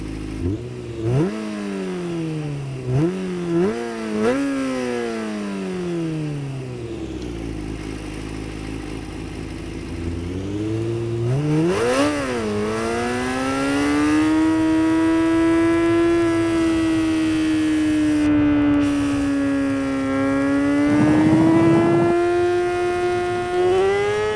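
A Yamaha MT-09 motorcycle engine in the racing game Ride 4 revs in sharp repeated bursts, then settles into a long rising whine as it accelerates through gears, loud and steady.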